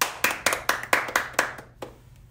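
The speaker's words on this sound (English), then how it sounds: "Shall we clap once for all of you who studied" Students in a Korean language class clap together in about eight quick, distinct claps, sharp and fairly close, trailing off into a few scattered final claps.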